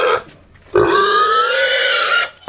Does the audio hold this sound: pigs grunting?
yes